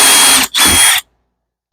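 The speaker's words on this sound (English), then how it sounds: "and we drill holes." Two short bursts of a power drill whirring up close while drilling holes in a grapevine wreath, separated by a brief pause, then silence and a final start.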